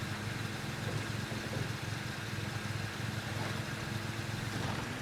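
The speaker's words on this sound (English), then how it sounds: "This engine does not sound happy." Steady car engine idle in the video game State of Decay 2, running rough and strained, a continuous low rumble with no talk over it.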